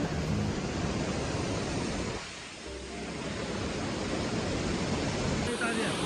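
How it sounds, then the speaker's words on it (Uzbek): Water roars at the foot of Ispay waterfall, a steady, loud, broadband rush that fills the scene, easing briefly in the middle before swelling back. "Ispay sharsharasi tagida."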